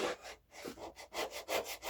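A hand plane blade being sharpened freehand on a sharpening stone, with repeated rhythmic scraping strokes that rise and fade about four times, close and fairly quiet.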